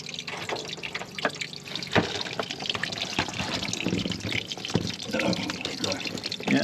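Water gushing and splashing out during a repair with a badly leaking seal, a continuous messy pour with drips and clanks, while people talk over it.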